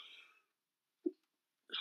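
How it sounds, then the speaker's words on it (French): A single short, faint sneeze bursts out between quiet stretches, with soft breathy sounds before and after. "Je vais éternuer, pardon."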